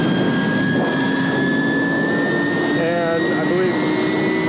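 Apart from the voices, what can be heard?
wind blowing into the microphone outdoors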